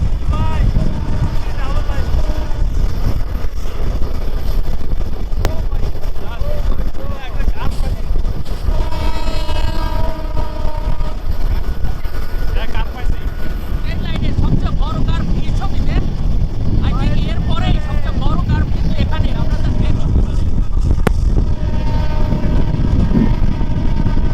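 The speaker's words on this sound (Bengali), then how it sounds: "সম্পূর্ণ ট্রেনটা একটা কার্ভ হয়েছে কার্ভ" Jahanabad Express train on the Dhaka–Khulna route rounding a curve on its inaugural run, a loud continuous rumble of wheels and rails with a brief horn-like tone near the middle, heard from on board.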